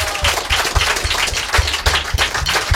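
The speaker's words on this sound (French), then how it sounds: "Vous pouvez les applaudir." A studio audience applauds the volunteers at the end of a two-hour 1980s-themed radio show, a dense, steady wash of many hands clapping together close by, with no voices over it.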